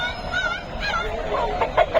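An eight-month-old rooster at a poultry market gives drawn-out, wavering clucking calls, close and fairly loud, with a busy murmur of people and birds behind it.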